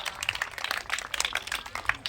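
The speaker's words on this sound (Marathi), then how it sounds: "हा सर्वांनी टाळ्या वाजवा" Audience clapping during the Marathi game show Home Minister, a brisk burst of scattered hand claps from a small crowd lasting about two seconds, close and lively.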